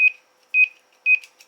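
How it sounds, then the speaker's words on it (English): A K-PO DX5000+ CB radio sounds its roger beep, a clean high electronic tone repeated in three short, evenly spaced bursts with a fourth just starting, loud and alone. "That's what the Roger beep will sound like."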